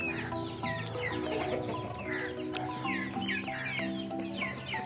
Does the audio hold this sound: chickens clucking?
yes